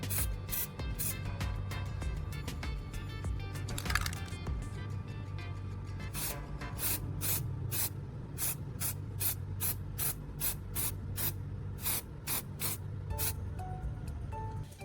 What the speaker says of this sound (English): I'm applying a coat of gray spray paint to the repaired car part,